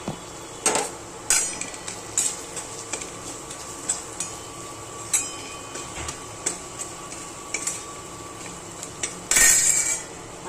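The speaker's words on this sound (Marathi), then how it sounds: "आता हे चांगलं आहे ना हलवून घ्यायचं." Spices being stirred in a pan for Puneri misal, a spoon scraping and knocking against the metal in irregular sharp clinks, close and loud, with no talking.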